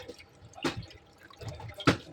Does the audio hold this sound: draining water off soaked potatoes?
yes